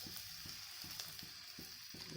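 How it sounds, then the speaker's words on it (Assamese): Green chillies fry in a hot pan for an Assamese sour fish-style curry, giving a steady, close sizzle with soft crackles and brief stirring scrapes throughout. "এতিয়া ভালদৰে ভাজি ল'ব লাগিব।"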